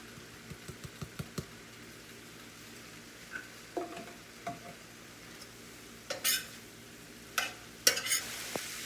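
A spoon stirs seasoned ground meat in a pan with a faint sizzle, while scattered clinks and scrapes of utensil against cookware come in irregular bursts, near and fairly quiet.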